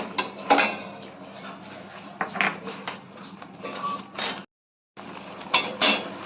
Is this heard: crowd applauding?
no